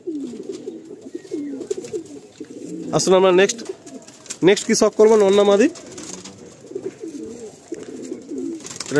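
Madrasi (Malbai) tournament pigeons coo in soft, repeating low murmurs throughout, while someone talks over them at close range.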